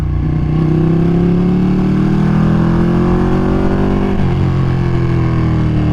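A Ducati Panigale V2 Bayliss sport motorcycle engine growls loud and close, holding a deep steady rumble that rises slightly in pitch before easing back.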